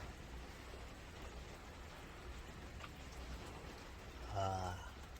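Heavy rain falls outside near a rough sea in Japan, a soft continuous hiss of fat drops, with a brief low thump of nearby handling noise toward the end.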